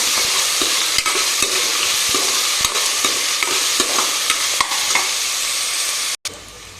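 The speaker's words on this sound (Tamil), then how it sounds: "போட்டு நல்லா வதக்கலாம்." Shallots and salt sauté in a pan with a steady sizzle, while a spoon scrapes and stirs in regular close taps; the sizzle cuts out briefly near the end before resuming.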